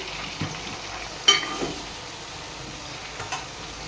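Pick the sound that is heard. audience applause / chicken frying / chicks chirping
chicken frying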